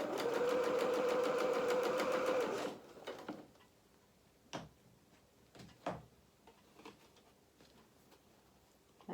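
A sewing machine runs steadily for under three seconds, stitching the seam of a tiered dress, then stops, leaving quiet handling clicks and fabric rustles.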